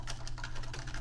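Quick keystrokes on a computer keyboard, with several distinct taps in about a second, close and fairly loud over a low steady hum.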